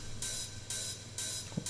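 Unprocessed Roland 909 hi-hats play a regular pattern of four bright, airy strikes, each with a short sustained hiss, close and clear over low background noise, with a small dull knock near the end.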